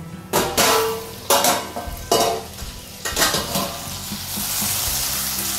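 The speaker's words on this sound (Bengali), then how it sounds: "এখানে এই আলু পটল গুলো খুব ভালো করে ভাজা হয়ে গেছে, আর মশলাটাও খুব ভালো করে ভাজা হয়ে গেছে" Potatoes and pointed gourd fry in spiced oil in a pan, for a prawn curry, loudly sizzling in repeated bursts as they are stirred, then settling into a steady hiss.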